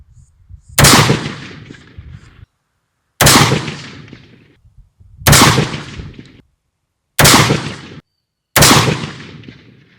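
Five loud, close rifle shots firing Wedgetail MPR ammunition at targets, each a sharp crack with a quick decaying tail, spaced about two seconds apart with near silence between them.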